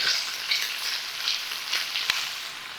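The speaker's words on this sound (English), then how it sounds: "So you can hear it cooking up here." Steady crackling sizzle of food frying in a pan, continuous and close, with a few sharper pops and a brief clink near the end.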